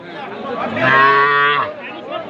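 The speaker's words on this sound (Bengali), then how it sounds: "এইটাও তেইশ হাজার হলে বিক্রি হবে এইটা বকনা বাছুর" A heifer calf lets out one drawn-out moo, close and loud, over faint crowd chatter at a cattle market.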